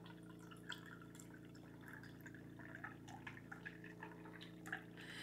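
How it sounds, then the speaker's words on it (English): Water is slowly poured from a measuring cup into a kitchen mixture being prepared for puff pastry, a faint trickle with small splashes over a steady low appliance hum. "I'm going to slowly add 1 cup of water."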